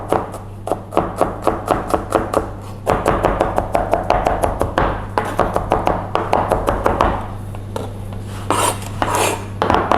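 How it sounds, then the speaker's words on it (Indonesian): Garlic cloves being finely minced with a knife on a cutting board: rapid, evenly spaced sharp chops, close and loud, with a brief pause midway before the rhythm resumes. "bawang putihnya kita cincang halus"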